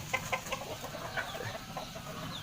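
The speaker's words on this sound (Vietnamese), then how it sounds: "Gà trống thì rất là to nhé" Free-range chickens, including a big rooster of over two kilograms, cluck in short bursts at a rural farmyard in the early morning, with a few clear calls near and softer chatter behind and no one talking.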